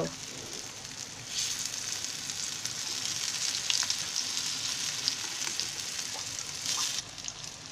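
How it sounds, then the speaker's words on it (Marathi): Pointed gourd slices fry with onion in a pan, giving a soft, continuous hiss and sizzle with a few light scrapes of stirring, fairly quiet and close. "असे सगळे असे फिरवून घ्यायचे मस्त"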